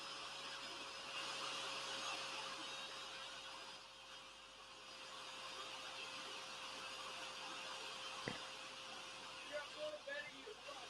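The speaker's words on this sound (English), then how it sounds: "It sounds like a Hoover." A vacuum cleaner hums steadily in the background of a room at an art exhibition, a constant mid-level drone with a faint tonal whine, running throughout with no pause, and a brief click near the end.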